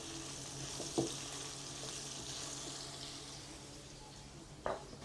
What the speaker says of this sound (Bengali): এখন আমি দিয়ে দেব কেটে রাখা ছোট ছোট করে আলুগুলো হালকা একটু ভেজে নেব